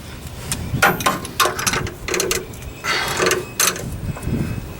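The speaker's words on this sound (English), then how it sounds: "we're going to tighten this as tight as humanly possible" A wrench tightening the nut on the kingpin of a Ford F100, producing close metallic clicks, ratcheting scrapes and knocks in irregular bursts with short pauses between turns.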